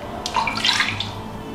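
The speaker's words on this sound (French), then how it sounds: "Je rajoute l'eau." Water poured from a container into a mixing bowl holding cracked eggs for spätzle batter, a short close splash and trickle lasting about a second, with no talk.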